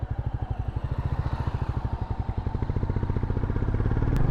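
A Goan Classic 350 motorcycle engine runs close by with a fast, even putter of firing pulses, steady, smooth and fairly loud, with no talking.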